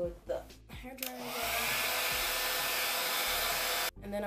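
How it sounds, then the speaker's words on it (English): A handheld hair dryer blows in a loud, steady rush that starts after a brief click, holds for a few seconds, then cuts off abruptly. "So let's go with the hairdryer again."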